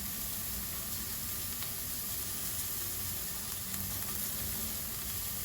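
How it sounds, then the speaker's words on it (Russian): Food frying in a pan at home, a steady, even sizzle with fine crackles throughout, fairly quiet and without voices. "То есть, значит, хорошо жарится."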